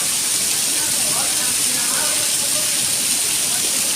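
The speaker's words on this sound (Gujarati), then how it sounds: "મોરબી માટલ વિસ્તારમાં આજનો સારો વરસાદ." Heavy monsoon rain pours down in Morbi, Gujarat in the evening, a dense, steady hiss of drops that fills the scene without letting up.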